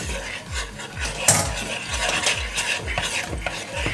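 Chocolate sauce for profiteroles, made from a Dr. Oetker mix, is stirred in a pot with a spoon, giving a close, steady rhythm of soft scraping sweeps about three per second, with a faint thick sizzle underneath.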